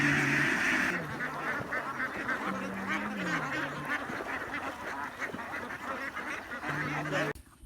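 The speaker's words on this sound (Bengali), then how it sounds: "হাঁসের পাল।" A flock of ducks quacks in a village field, a close chorus of nasal honks and quacks rising and overlapping repeatedly, loud at first and then settling into steady chatter.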